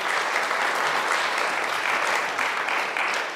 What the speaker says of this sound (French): je pense que ça mérite une bonne main d'applaudissement